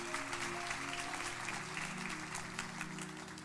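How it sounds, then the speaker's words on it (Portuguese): Congregation applause during a church service, a fairly quiet, continuous patter of many people clapping over a sustained low musical or hum-like drone. "Aplauda ao Senhor."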